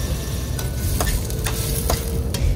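Food fries in olive oil in a pan for lamb pasta, a loud, dense sizzle broken by several sharp scrapes and clicks of a stirring utensil; close, steady, and wordless.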